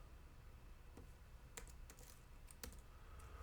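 Several separate key presses tap on a computer keyboard while entering notes in guitar notation software, sharp isolated clicks spaced irregularly over a faint steady background hiss.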